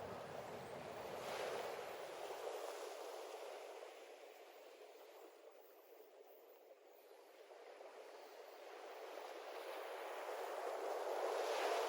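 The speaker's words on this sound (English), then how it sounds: "just like the sound of the ocean that you hear" Steady ocean surf with waves washing in and receding, a continuous broad rushing hiss that swells and eases over several seconds, with some wind noise, no voices.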